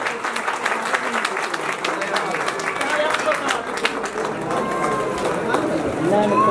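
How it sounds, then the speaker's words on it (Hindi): Loud, steady applause from an audience welcoming a speaker, dense clapping sustained across the whole stretch with crowd noise mixed in. "जोरदार तालियों से स्वागत करें।"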